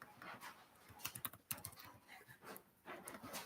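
Typing on a computer keyboard, a rapid irregular run of soft close clicks and key taps, quiet, with no talking.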